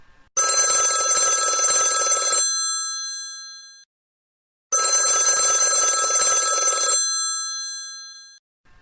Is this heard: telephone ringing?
yes